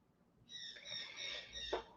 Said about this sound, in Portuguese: Ele tá gritando, escandaloso esse passarinho